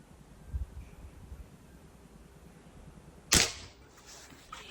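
A single sharp crack from a Weihrauch HW77K .177 air rifle rings out once, loud and close, after a few quiet seconds with faint background noise.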